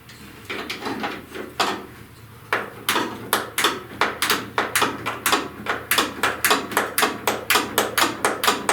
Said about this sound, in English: the fastest method, I believe, is the ratchet wrench. Even though it's only one click at a time